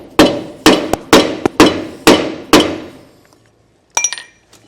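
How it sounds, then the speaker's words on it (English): Sharp metallic hammer blows drive a dust cap into a trailer wheel hub through a drive tool: six loud, evenly spaced strikes, each ringing briefly, then a pause and a lighter clinking tap. "I've got a drive tool so that I can hammer it in to our hub assembly"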